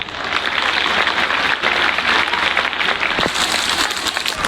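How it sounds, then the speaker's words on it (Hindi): A school audience at a Republic Day function claps loudly in a dense, sustained wave of applause, steady and full throughout with no speech over it. "एक बार जोरदार ताली बजा करके आप लोग अपना स्वागत कर लीजिए"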